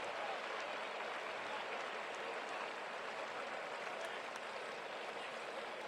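Stadium crowd at Boone Pickens Stadium gives a steady, broad ovation of applause and cheering for a football player walking off the field during a K-State at Oklahoma State game, a continuous wash of noise throughout.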